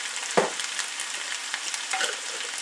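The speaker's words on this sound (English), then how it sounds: "I'm just going to stir this all up. Let her cook for a little bit more" Garlic salsa stirred and cooking in a pan, a close scrape of the spoon followed by a steady soft sizzle with a few small clinks.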